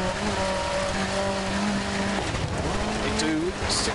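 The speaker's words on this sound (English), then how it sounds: "hammered on the brakes there to control it" An Opel Manta rally car in DiRT Rally 2.0, racing a New England time-trial stage and braking hard, with a steady close engine drone whose pitch shifts as revs fall and scrubbing tyre noise underneath.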